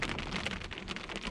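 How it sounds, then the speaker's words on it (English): Rain pattering on a truck during a rainstorm, a quiet, dense drumming of drops that continues evenly throughout the short stretch with nobody talking. "Man, it's really starting to rain."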